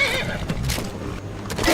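A horse in Skyrim, a modded playthrough, whinnies loudly twice in quick succession, close and clear, with faint game ambience and light hoof movement around it.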